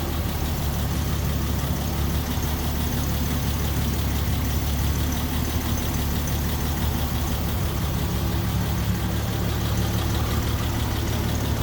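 A 1949 Ford F1 pickup with a single carburetor idles steadily and smoothly, a constant low engine rumble heard close up with no talking.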